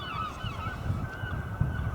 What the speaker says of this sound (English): Swans and noisy bleeding seagulls